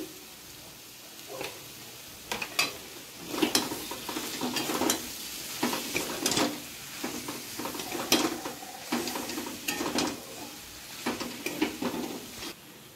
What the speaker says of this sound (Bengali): তো আমার মাংসটা ভালো করে কষে গেছে।